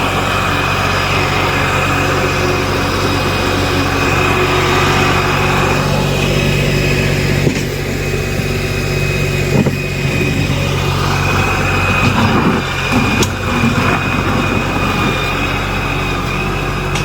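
New Holland Workmaster 40 compact tractor engine droning steadily and loudly while the tractor slides around in slick mud on a boat ramp, with no talk over it.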